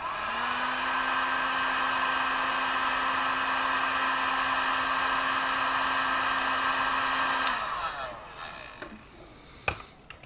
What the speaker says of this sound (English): and use the industrial hairdryer.